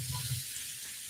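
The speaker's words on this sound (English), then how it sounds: "they're starting to sizzle right away" Mushrooms dropped into hot grapeseed oil give a steady, even hiss of sizzling that fills the clip at close range, with no talk over it.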